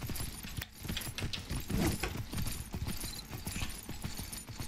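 Hooves clip-clop steadily from a horse in the video game Myth of Empires, a quick even rhythm of close, soft hoof thuds running continuously with no speech.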